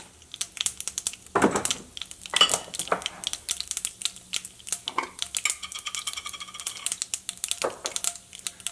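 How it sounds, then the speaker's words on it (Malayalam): Mustard seeds splutter and pop in hot coconut oil in a pan, irregular crackling bursts close by with a few utensil clinks, no talking. "ഫസ്റ്റ് കടുക് പൊട്ടിക്കുക."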